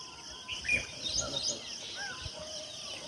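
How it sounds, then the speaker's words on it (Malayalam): Small bird in a park setting chirping repeatedly in quick, high, scattered calls, moderately near, over a bed of insect-like buzzing and light outdoor noise. "ആ കിളിയാണ് കിടന്ന് കിറിക്കിറിക്കിറീന്ന് കിടന്ന് കരയുന്നത്."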